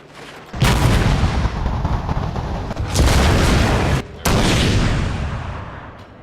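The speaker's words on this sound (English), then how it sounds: "Artillery, lord of the battlefield." Thunderous artillery barrages on a Total War: Shogun 2 battlefield, heavy booming volleys in three long sustained bursts separated by short gaps, loud and close with no talking.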